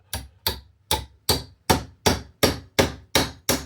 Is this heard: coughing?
no